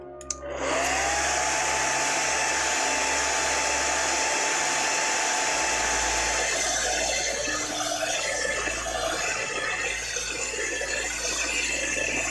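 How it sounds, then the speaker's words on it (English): A hair dryer switches on and blows steadily at close range, a loud continuous whine and rush of air with no talking. "I'm just going to use the hairdryer again"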